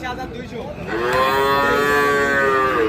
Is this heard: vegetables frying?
no